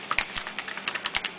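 A lidded container holding baking soda and contact solution is shaken by hand, giving quick, irregular tapping rattles that are close and fairly soft, with no voices.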